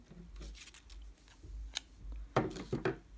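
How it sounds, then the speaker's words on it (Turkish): Scissors snip through crochet yarn on a baby hat project, giving a few short, close crisp cuts near the end after quieter handling sounds. "İpi burada kesiyorum."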